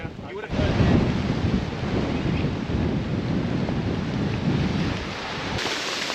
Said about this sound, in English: You can hear the waves crash on the rocks, and then recede, and you'll hear the clatter of the rocks.